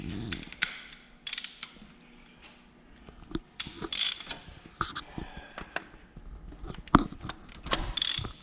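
A ratchet wrench clicks in short bursts as the knock sensor is tightened on an Acura RSX engine, close and crisp, with pauses and a few metallic knocks between strokes.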